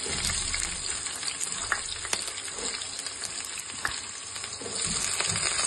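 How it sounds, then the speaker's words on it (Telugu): Green chilies and onions fry in a pan with a constant crackling sizzle and occasional stirring scrapes, steady and close throughout. "దీన్ని కొంచెం సేపు వేగే వరకు ఇలాగే మిక్స్ చేయాలి"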